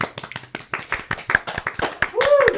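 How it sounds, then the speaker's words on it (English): Hands clapping in quick, sharp bursts, close and fairly loud, mixed in with people chatting and laughing in a lively indoor setting. "claps to that"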